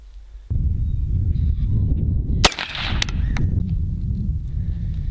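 A 5.56 full metal jacket rifle round fired at a homemade Mandalorian armor chestplate: one sharp, loud crack over a steady low outdoor rumble, followed by a brief ringing tail.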